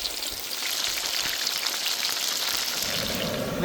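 Soya chunks deep-frying in hot oil, a steady dense bubbling sizzle with crackling that stays loud and even throughout, with no voices over it.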